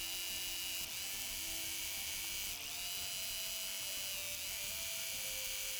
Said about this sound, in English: we're sewing on both diagonals this time.